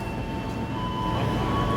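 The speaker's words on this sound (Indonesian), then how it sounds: "Ini jalur 2 ada KRL komuter lain tujuan Palur" A KRL commuter train stands at a platform in Yogyakarta station, giving a loud, steady rumble with a sustained electric whine running throughout.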